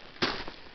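A shotgun firing 8mm buckshot loaded in paraffin gives a single sharp report at a distance, followed by a brief echo, fairly faint overall with no talk.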